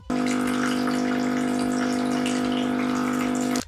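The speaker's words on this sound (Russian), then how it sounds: "Также необходимо провести самоочистку, во время которой пылесос прогонит через систему горячую воду." Hot water rushing steadily through a Deerma DEM BY700 washing vacuum during its self-cleaning cycle, a continuous close hiss and gurgle with a motor hum, starting and stopping abruptly.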